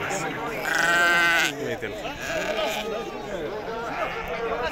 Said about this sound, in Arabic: خروف هادي